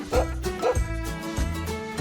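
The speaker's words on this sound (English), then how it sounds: "It's a dog." A dog among hay on a farm barks three times in short, close woofs, clear and alone.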